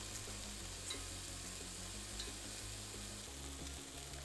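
Pork belly or mushrooms sauté in a pan for Vietnamese eggplant soup, giving a soft, steady sizzle and crackle that continues evenly throughout with no talking.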